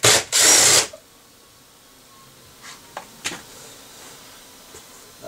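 Two quick whirring bursts of a power driver backing out a 10 mm bolt from a 2020–2022 Nissan Sentra door panel, loud and close, followed by faint clicks and handling noises in a quiet setting.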